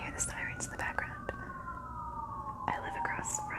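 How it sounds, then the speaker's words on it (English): A faint police siren wails and slowly falls in pitch in the distance while someone whispers close by. "Sorry if you can hear the sirens in the background."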